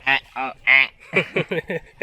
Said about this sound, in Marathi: पहिल्या पावसात बिडोक पण बाहेर पडतात